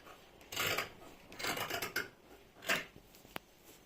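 Scissors cutting through layered fabric for a full circle skirt, waist curves of front and back pieces cut together; several short crisp snipping and rasping bursts with brief pauses, close and fairly quiet, no talking.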